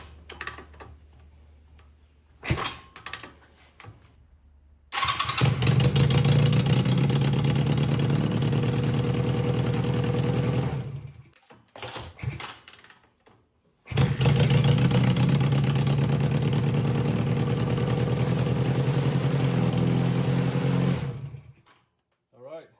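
A Honda Rebel 250 motorcycle fitted with a new kickstart, with a few scattered knocks before the engine fires and runs loud and close for several seconds, cuts out, then starts and runs again before stopping. Speech is faintly present.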